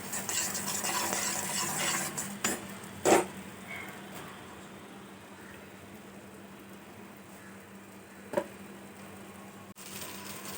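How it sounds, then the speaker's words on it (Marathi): A spoon stirs quietly through thick matar paneer masala in a pan, with soft scraping and two sharp clinks against the pot's side. "थोडीशी बारीक चिरलेली कोथिंबीर टाकायची मिक्स करायचं"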